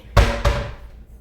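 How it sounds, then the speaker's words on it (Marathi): A metal pot is set down on a kitchen surface while black chana kadha is prepared, giving two quick, close clanks a fraction of a second apart, each ringing briefly before fading. "हे बघा, मी हे भांडं घेते"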